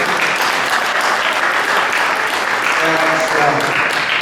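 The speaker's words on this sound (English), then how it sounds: "Give them a big round of applause," Crowd at a county fair hypnosis show applauding, a dense continuous clapping wash at high level, with a few voices and faint tonal sounds mixed in toward the end.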